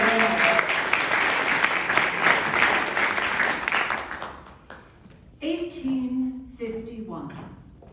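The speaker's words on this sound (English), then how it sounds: "Let's give them a round of applause." An audience at a Women's Month reading event breaks into loud applause that fades after about four seconds, followed by voices speaking.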